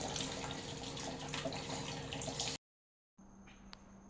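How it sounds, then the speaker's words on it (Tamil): Tap water runs steadily into a sink while dishes are washed, a close, even rushing flow that cuts out abruptly to silence before a quieter room tone with a brief clink returns. "நம்ம பாத்திரமெல்லாம் கழுவிட்டு"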